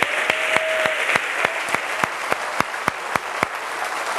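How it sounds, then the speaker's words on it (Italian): Studio audience applause at the final episode of the 1996 Italian TV show Aria Fresca, broadcast from La Bussola in Marina di Pietrasanta: steady, fairly loud clapping with regular sharp claps standing out over the crowd. "Bussola ti ringrazia con questo applauso."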